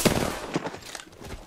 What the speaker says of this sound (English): Taking fire. Bad boys are shooting at me.